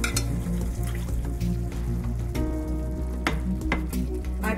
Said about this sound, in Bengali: আর যে জলটা ভিজিয়ে রেখেছিলাম সেটাও এর মধ্যে দিয়ে দিচ্ছি।